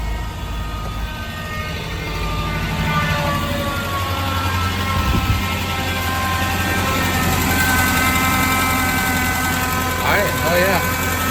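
A Chevy OBS truck engine, just reassembled, runs steadily with a loud rumbling idle and whining tones, while people talk over it.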